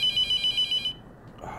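A telephone in The Mortuary Assistant video game rings in six quick electronic pulses, then cuts off. Low room noise and a faint hum remain, with no speech.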